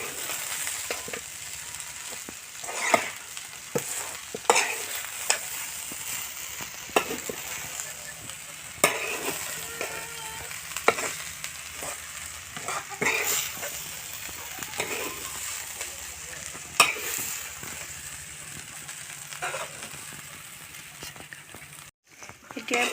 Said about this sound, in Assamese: চিকেন পোলাও লৰাই দিম এতিয়া।